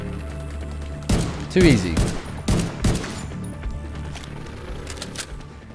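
Gunfire in The Division 2: about four loud, close shots spaced over a few seconds, followed by a lingering tail of quieter battle noise, with a voice speaking briefly.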